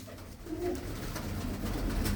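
A black-eyed Kalsra pigeon gives a soft, low coo over a steady background hum, close by but faint, with no talking.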